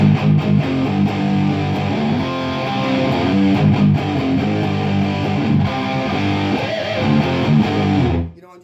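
A heavily distorted electric guitar through a Kasha Rockmod II preamp on its Krunch channel plays loud chords and riffs for several seconds, then cuts off abruptly.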